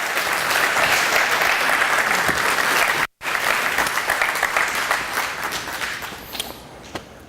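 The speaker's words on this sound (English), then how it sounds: "Clap your hands, give him a warm welcome." Loud, sustained applause from a large crowd fills the room, briefly cut off midway, then continues and gradually thins out.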